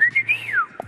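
A person whistles up close in a kitchen, one short gliding tune that rises and falls, followed by a brief soft noise.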